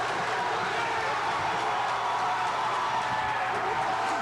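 A packed gym crowd at a 1998 high school boys' basketball game roars continuously, a dense, loud wash of cheering and shouting that holds steady throughout the whole stretch without breaks.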